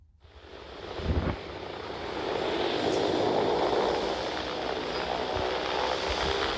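B-17 bomber engines in a video game swell into a loud, steady propeller drone that builds after a short thump and holds on, with some wind-like rush.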